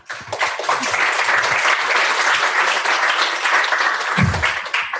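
After a technical talk on microservices observability, the audience breaks into steady applause, a dense, fairly close wash of clapping that holds for several seconds with a brief voice partway through.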